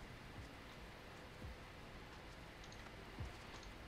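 Soft, steady rainfall in the survival video game Garbage, a faint continuous patter with a few scattered louder drops and no voices.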